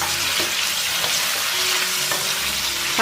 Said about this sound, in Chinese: 给它翻炒香